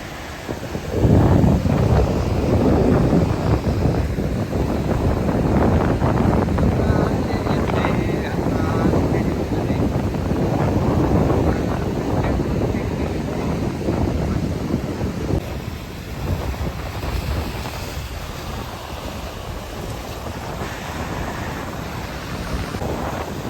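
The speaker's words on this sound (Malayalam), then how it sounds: "അതിശക്തമായ തിരമാലകൾ ഇപ്പോഴും ഇങ്ങനെ അടിച്ചുകൊണ്ടിരിക്കുകയാണ്" Strong sea waves pound the Payyambalam breakwater in a continuous heavy roar, with gusting wind buffeting the microphone throughout and easing slightly toward the end.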